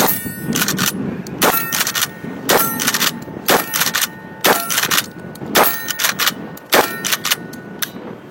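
Shotgun shells fired in a rapid series of loud, sharp blasts, roughly a dozen shots in uneven rhythm with metallic ringing after several, close by with no talking.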